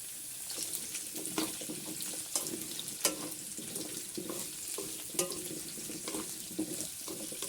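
Squash goes into a pan of sautéing vegetables, giving a steady moderate sizzle with scattered clicks and small clatters from the pan, close by and without talk.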